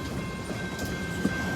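Norfolk Southern freight locomotive NS 4422 departs on the Paducah and Louisville Railway in Madisonville, Kentucky, with a loud, steady rumble of engine and rolling wagons and a faint tonal whine.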